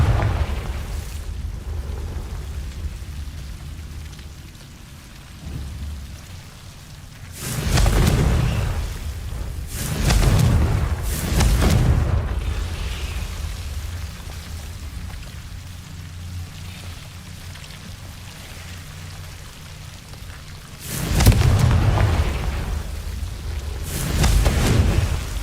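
Confringo blasting spell explosions in the game Hogwarts Legacy, several deep booming blasts with long rumbling tails in two clusters over a low ambient drone, no voices.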